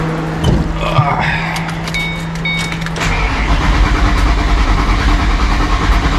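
A car engine cranks and catches, running rough and sputtering before it dies from lack of fuel, then the starter turns over again; loud and close inside a car being torn apart, with no speech.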